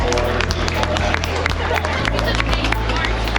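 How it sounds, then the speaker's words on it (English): A crowd at a national pig show claps and cheers in a round of applause, dense clapping mixed with hubbub and voices, with a low steady hum beneath. "Let's give them all a huge round of applause."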